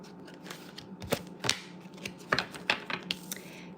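A deck of playing cards, sticking to the hands, is shuffled up close in a quiet room, giving a few irregular crisp snaps and papery flutters with no talking.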